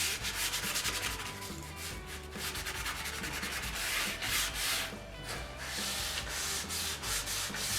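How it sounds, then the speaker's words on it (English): 180-grit sandpaper rubbed along the sharp edges of a homemade wooden table saw extension, a continuous close rasping scrub with rhythmic back-and-forth strokes. "taking a piece of 180 here and just sanding down these edges"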